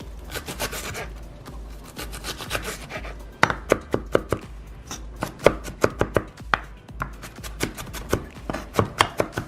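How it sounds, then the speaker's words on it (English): Fresh cilantro is chopped with a knife on a board, giving close, sharp, irregular taps, quick rubbing at first, then steadier individual chops. "The cilantro, just chop it in small pieces."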